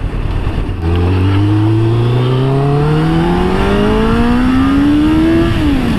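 A Kawasaki ZZR1100 motorcycle accelerates hard in first gear, its engine note rising steadily and loudly over several seconds before easing off near the end. The sound is close and continuous, with wind noise and no talk.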